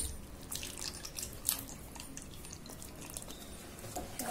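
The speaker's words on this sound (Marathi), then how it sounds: "तर आता आपण याच्यामध्ये आपला पाक ओतून घेऊ" Sugar syrup poured over fried khoya gulab jamun in a pan, a soft steady liquid trickle with faint dripping, quiet and close, no talking.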